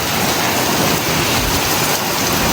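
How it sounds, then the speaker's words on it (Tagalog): Heavy summer storm rain in Edmonton, Canada pours down in a dense, steady roar, loud and close, with no pauses and no voices. "Ang lakas ng ulan."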